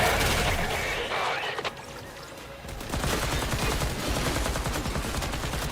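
Rapid bursts of gunfire from the video game Warframe crackle loud and dense, with a brief lull before a fresh stream of shots takes over and continues.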